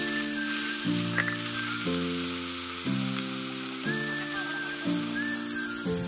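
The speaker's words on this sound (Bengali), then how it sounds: "একটু ভাজা করে নিয়ে আমি শাকটাকে দিয়ে দিলাম" Dhenki fern greens frying in a pan with green chili and garlic give off a steady, close sizzle that runs throughout, with a stepped droning tone underneath.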